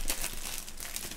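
A Topps 2020/21 Stadium Club UCL Chrome soccer trading card pack wrapper crinkles and tears open close by, a brief quiet rustle of foil.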